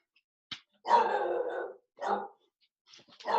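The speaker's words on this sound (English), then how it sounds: "Oh, sorry, the dog's going off." A dog barks nearby indoors in short bursts: a brief yap, then a longer rough bark and another, separated by quiet gaps.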